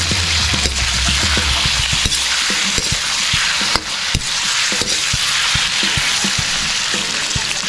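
Pork belly and garlic fry in a pan, with a loud, steady sizzle of hot oil and repeated clicks and scrapes of a utensil stirring, close up and continuous with no talking.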